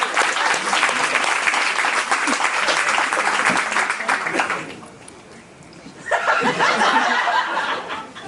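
A game show audience aboard a Disney cruise ship claps loudly and laughs for a contestant couple. The applause dips briefly midway, then swells again.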